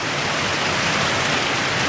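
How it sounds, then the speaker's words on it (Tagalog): Heavy rain pours down hard during a flood-prone downpour, a dense, unbroken hiss of water striking surfaces that stays loud and constant throughout with no voices. "Grabe ang lakas ng ulan ngayon."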